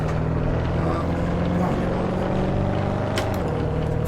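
A 2019 Chevrolet Corvette ZR1 engine in Assetto Corsa drones steadily under acceleration, a loud continuous tone that climbs gradually in pitch with no pauses.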